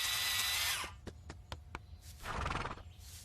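A horse gives a loud, shrill whinny that fades out, followed by a few sharp hoof knocks and then a second, rougher neigh up close.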